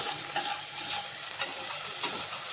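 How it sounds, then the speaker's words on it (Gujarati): Chopped tomatoes and onions sizzle in hot oil in a pan for sambar, a steady bright hiss with light scraping stirs ticking through it at intervals. "ટામેટાને પણ બરોબર સાતળી લેવાના છે"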